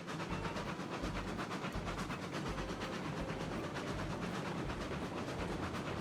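A steam train in the video game Railroads Online runs steadily with a continuous rumbling chug and faint rhythmic clatter, fairly constant in loudness throughout, with no voices.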